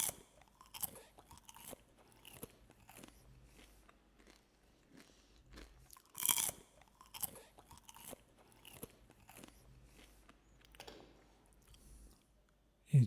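A crunchy caramel-coated treat is bitten and chewed close up, giving repeated crisp crunches in an irregular rhythm, with one loud crackling bite near the middle and no talking.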